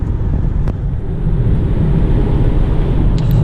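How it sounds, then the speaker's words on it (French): A steady, loud low rumble of road noise from worn pavement fills a Hyundai Kona electric car's interior, constant and dense with no voices. "le revêtement est assez usé, donc on a un bruit qui est assez présent à l'intérieur"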